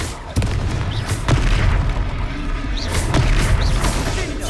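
A Confringo spell explodes during a battle in Hogwarts Legacy, sharp booming blasts over a constant rumbling combat din, with several thudding impacts in quick succession.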